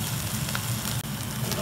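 Red peppers and onions for a pissaladière frying in a pan with almost no water left, giving a steady close sizzle while being stirred. A brief dip in the noise comes near the middle.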